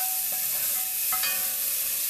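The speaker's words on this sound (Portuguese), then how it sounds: "Então vamos fritar o nosso bacon, não vamos deixá-lo agarrar no fundo." Bacon frying slowly in a pan at home, a steady close sizzle with faint crackles and a couple of brief stirring scrapes, no talk.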